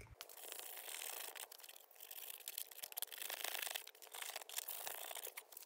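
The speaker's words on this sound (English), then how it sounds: "I need to take like some 80 grit sandpaper and scuff that up to give the adhesive some tooth to stick to" 80 grit sandpaper scuffs a cracked repair area on a Jeep XJ before fiberglass patching, giving close, quiet, irregular rasping strokes with brief pauses between them.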